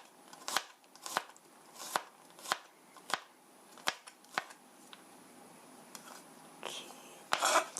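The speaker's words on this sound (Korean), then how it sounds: "갈릭 마늘 2쪽도 얇게 슬라이스해서" A knife thinly slices two garlic cloves on a cutting board for a tomato penne, giving about nine crisp, evenly spaced cuts, then softer scraping and a few closing knocks.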